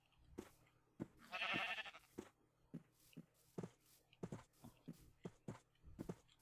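Sheep in the Minecraft game bleat in short synthetic calls, with one longer bleat standing out, amid light scattered footstep clicks and no talking.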